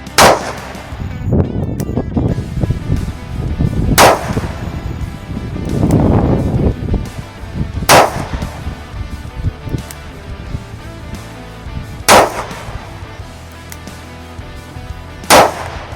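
Five loud gunshots from a Taurus 605 .357 revolver at a shooting range, spaced a few seconds apart, each a sharp blast with a booming echo and lingering rumble between shots.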